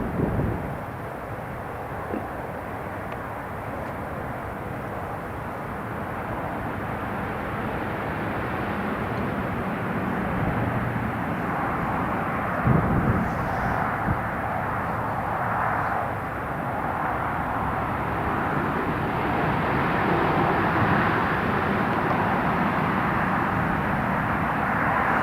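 Lufthansa airliner at Newcastle airport: a broad, steady jet engine roar that holds loud for the full length, with wind rumble on the microphone.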